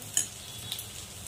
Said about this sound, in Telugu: చూడండి ఉల్లిగడ్డ ఎట్లా ఎంచుతున్నా చూడండి.